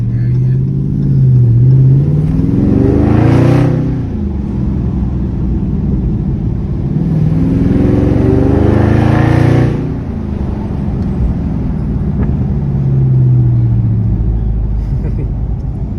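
A widebody Dodge Charger Scat Pack rumbles loudly from inside the cabin during a ride, its engine surging through several rising revs and easing back to a steady, deep drone.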